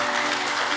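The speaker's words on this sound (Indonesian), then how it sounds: "Tepuk tangan untuk kita orang semua" Audience applause at an inauguration ceremony for a Southeast Sulawesi family association, a dense, steady wash of clapping that fills the brief moment at even loudness.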